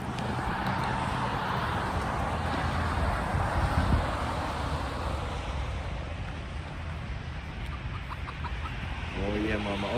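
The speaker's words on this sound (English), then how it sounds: "Oh, we got chickens here." Chickens with small chicks cluck on a town sidewalk in Lahaina, Hawaii, mostly masked by steady street and traffic noise, with a few faint bird calls rising near the end.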